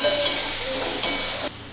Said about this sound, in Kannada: ಒಗ್ಗರಣೆ ಎಲ್ಲ ಫ್ರೈ ಆಗೈತಿ.